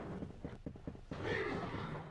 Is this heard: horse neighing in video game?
yes